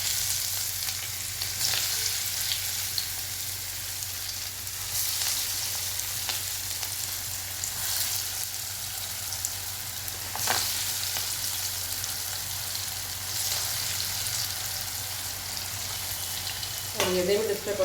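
Valapu vadai, South Indian banana fritters, fry in hot oil with a continuous bright sizzle that swells in waves, a few light knocks, and a brief muffled sound near the end.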